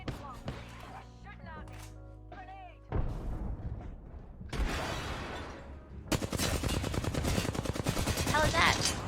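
Rapid automatic fire from a Flatline rifle in the Apex Legends shooter, bursts of dense cracking shots, sparse at first and then loud and continuous, mixed with other game effects and talking.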